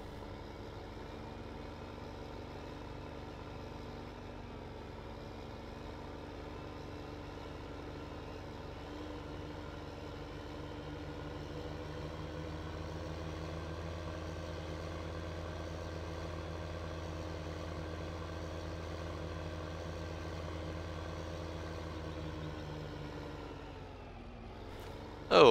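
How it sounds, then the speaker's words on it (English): A tractor engine in the farming video game Farming Simulator 15 drones steadily and evenly at a low, constant pitch for the whole stretch, with no voices. "we can definitely pick up the planting pace with this tractor here and Cedar."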